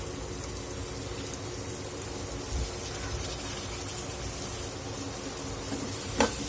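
Toor dal sautéing in a hot pan with turmeric for a Solapur-style kadvanchi dry vegetable dish, a steady close sizzle throughout with a faint stir or scrape near the end.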